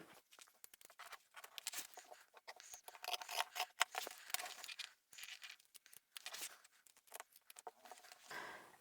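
Scissors clipping into fabric while cutting a large reversible tote bag, quick close snips and rustling cloth coming in uneven bursts at a soft level.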